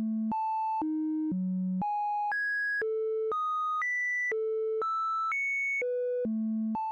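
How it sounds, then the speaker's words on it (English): A Music Thing Turing Machine sequencer with slight randomization: a clean, synthetic sine-like tone stepping through a steady sequence of distinct pitches, one evenly timed note after another, with no voices. "if we move the random knob slightly back, we introduce some randomization, which sounds very organic and musical."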